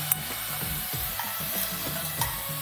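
Chopped onion and tomato sizzle in hot refined oil inside a pressure cooker, a steady close frying hiss broken by soft scraping stirs and a few light clinks, with no talking.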